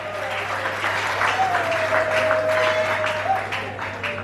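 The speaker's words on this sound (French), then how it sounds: "Applaudissez pour madame, s'il vous plaît." Guests at an evening dance party applaud the lady with steady, moderately loud clapping, while a faint voice or tone lingers underneath.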